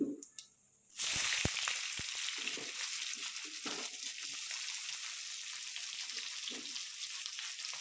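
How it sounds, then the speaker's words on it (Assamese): Chopped onions hit a pan of hot oil with green chillies, bay leaf and whole cumin for a chicken liver curry, bursting into a loud, steady sizzle after a quiet moment, with a few utensil taps. "পিঁয়াজখিনি দি অলপ সময় ভাজিম"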